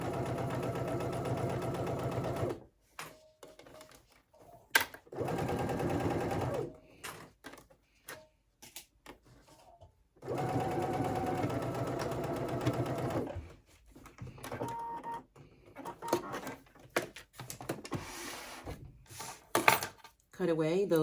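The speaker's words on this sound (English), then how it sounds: "Make sure I give myself a few extra stitches so it really locks it in" A sewing machine stitches a zipper onto a beauty bag in several close bursts of fast, whirring stitching, separated by pauses filled with handling clatter and a few spoken words.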